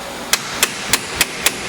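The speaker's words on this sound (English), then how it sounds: "hammer something in there and split that open." Five sharp metallic hammer strikes land at a steady, even pace on a Polaris RZR 800 rack and pinion, each a bright ringing clang over a faint background hiss.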